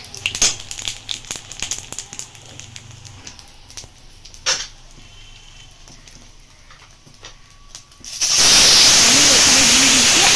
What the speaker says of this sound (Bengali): এবারে আমি একটু জিরে ফোড়ন দিয়ে দিয়েছি